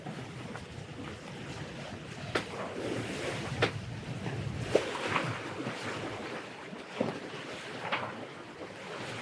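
Lagoon 46 catamaran sailing under full sails with engines off, soft sea wash and waves against the hulls with wind buffeting the microphone, occasional sharper splashes, no engine noise or voices.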